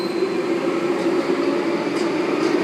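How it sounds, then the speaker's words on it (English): A Sydney Trains T-set leaving a platform at Chatswood, with a short, steady low rumble and hum from the train at moderate level and no voices. "Another T-set departing platform 4."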